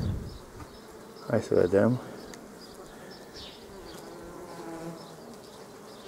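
Honeybees buzz during a beehive inspection as brood frames are checked. The drone is soft and continuous, and someone speaks briefly over it.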